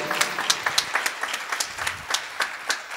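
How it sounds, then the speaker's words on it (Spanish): Audience applauding the school board at a school event, a steady patter of separate claps with sharp peaks, moderately loud and without voices. "Así que fuerte el aplauso para nuestra mesa directiva."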